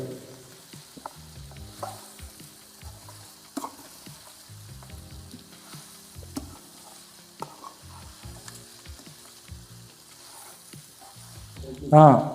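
A spoon stirs goat mutton curry in a pan with a low simmering sizzle, giving scattered scrapes and knocks throughout and a louder clatter at the very end.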